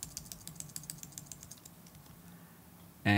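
Rapid keystrokes on a computer keyboard while text is entered in a graphic design program, steady close clicking for about a second and a half that fades, then a sudden loud burst at the very end.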